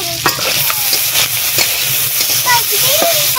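Potatoes sizzling as they go into a pan of hot oil with fried shrimp, dry red chillies and bay leaves, a steady loud hiss broken by stirring scrapes and small pops.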